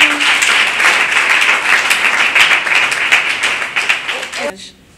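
A church congregation breaks into steady, dense applause during a women's testimony service, clapping loudly for several seconds before it drops off abruptly.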